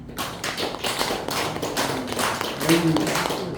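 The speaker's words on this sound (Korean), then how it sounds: "예, 박수 한번 치세요." A church congregation claps during a worship service, a steady, fairly even patter of many hands filling the hall at moderate loudness.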